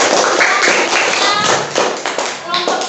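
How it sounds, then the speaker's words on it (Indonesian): Children in a classroom clap for group 2, a dense steady burst of many hands applauding that fades slightly toward the end, with voices mixed in. "Tepuk tangan untuk kelompok 2."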